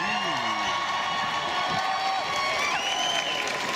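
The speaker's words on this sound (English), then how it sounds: "I want you to give a big Winnipeg Whiteout cheer" A large crowd at a Winnipeg Whiteout rally cheers, whoops and applauds in a dense, continuous roar, with high shouts and whistles rising above the steady din.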